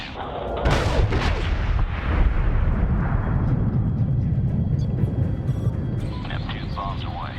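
Bombs exploding on Russian tanks in the video game Medal of Honor (2010), a sustained rumbling barrage of heavy booms and crashing blasts, with radio voices talking over the battle noise.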